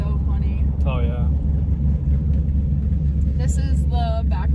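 Low, steady engine rumble inside a manual Chevrolet Camaro on the move, loud and continuous, with people talking intermittently over it.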